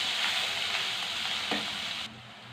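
Turmeric, ginger and garlic fry in hot oil in a pan for tempering, a steady close sizzle with faint stirring that drops slightly in level near the end.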